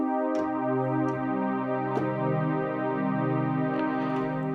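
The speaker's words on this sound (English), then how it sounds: "What you're hearing there is a stereo sound generated by 2 separate layers being hard panned" Two layered JX10 synth patches, hard-panned left and right in the Arturia Emulator II-V, form a sustained stereo chord pad with a few soft note attacks. The tone is smooth and steady, heard alone with no talking.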